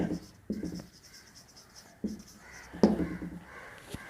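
Chalk or marker scratches across a classroom board during an accountancy lesson, in short clustered bursts of strokes with quiet gaps between them, fairly close and moderately loud.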